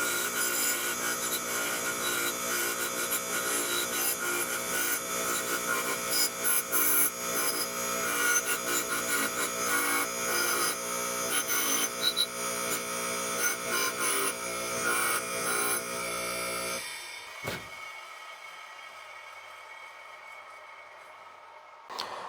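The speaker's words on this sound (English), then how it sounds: "now I'm gonna wire wheel it." A wire wheel scouring a steel flint striker, a steady harsh buzzing rasp running continuously for about seventeen seconds before cutting off, leaving a faint low hum.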